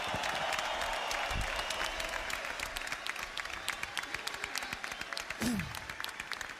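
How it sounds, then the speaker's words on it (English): Audience applauding both fighters after a boxing match, steady clapping with crowd noise throughout, moderately distant, with a brief voice-like tone partway through. "Let's give both fighters a round of applause."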